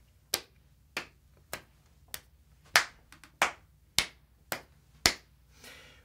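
Single pair of hands clapping slowly and sharply, about ten crisp claps spaced roughly every half second to second, close and dry in a quiet room with no talking.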